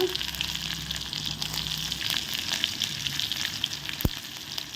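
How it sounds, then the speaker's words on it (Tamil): Fennel seeds and green chilies crackle in hot sesame oil with a busy, steady sizzle, close and fairly loud, with one sharp knock near the end. "பெருஞ்சீரகம் வந்து நல்லா சூடானதுக்கப்புறமா பச்சை மிளகா போட்டுக்கோங்க"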